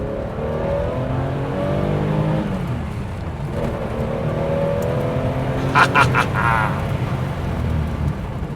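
A Porsche 911 engine revs and accelerates continuously through corners, rising and falling in pitch as it works through gears, with a few brief squeaky bursts near the end.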